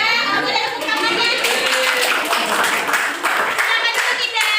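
Classmates clap their hands in a high-school religious ethics class role-play, scattered, fairly close applause running under ongoing talking.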